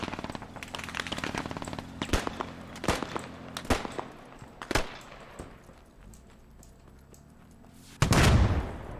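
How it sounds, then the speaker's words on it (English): Gunfire in an army infantry video game, with sharp single shots and short bursts scattered across the clip, some near and some farther off, then a heavy loud blast near the end. "Oh, you're getting shot at to your right."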